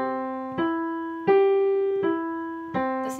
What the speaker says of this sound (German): Und dann spiele ich die Töne des Akkordes von C-Dur hinauf und zurück